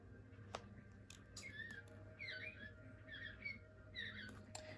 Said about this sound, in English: every time the hour passes, the birds sing